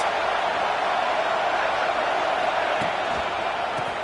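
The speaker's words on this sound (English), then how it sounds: "Listen to this crowd just shaking the girders of this place trying to help their defense." Football stadium crowd roaring to back its defense during a USC versus UW game, a dense, steady wall of cheering noise heard from a distance with faint commentary beneath it.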